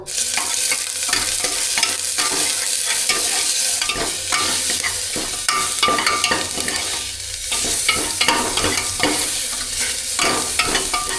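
Loud, continuous sizzling of hot oil in a pressure cooker, close by, with occasional sharper crackles and metallic stirring clatter throughout.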